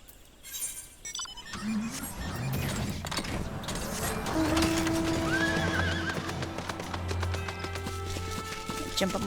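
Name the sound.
horse mount neighing and hooves in video game Final Fantasy 14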